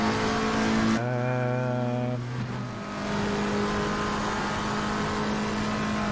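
A GT3 race car at Suzuka in a racing video game brakes hard, its engine tone stepping down in a few rapid downshifts after loud revving, then fading into a low steady hum.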